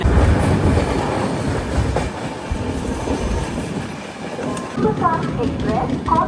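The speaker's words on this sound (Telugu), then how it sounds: "మన ట్రైన్ అయితే ఏలూరు నుంచి కూడా అయితే స్టార్ట్ అయిపోయింది" A Delhi-to-Vizag passenger train rumbles along steadily with rhythmic wheel clatter and a low, continuous roar, fairly loud and close throughout.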